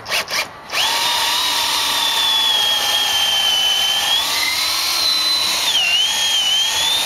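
A power drill with a long 3/8-inch bit whines steadily as it bores through wood, its pitch dipping slightly under load near the end, with a couple of brief clicks at the start.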